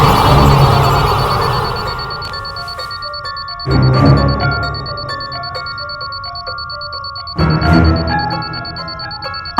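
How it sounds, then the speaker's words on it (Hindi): An alarm clock ring plays from a phone, a loud ringing chime pattern that sustains and fades, then restarts twice at regular intervals, close and with no talking. "अलार्म क्लॉक की आवाज फोन में?"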